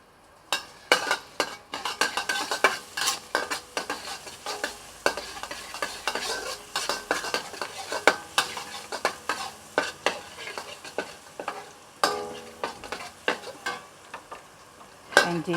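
Garlic fries in cooking oil in a pan, stirred briskly so a spatula scrapes and clanks in repeated strokes over a light sizzle, close and fairly loud.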